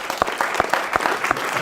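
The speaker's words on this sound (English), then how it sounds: "Let's give a round of applause." Brisk applause from an audience at a brain-health panel event, with a burst of sharp, overlapping claps close by that stays steady for under two seconds.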